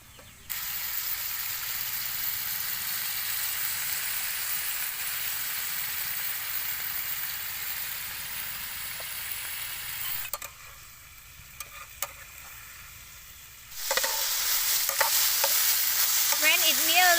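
Eel frying in a pan with soy sauce, giving a loud continuous sizzle that drops away for a few seconds and then surges back with stirring.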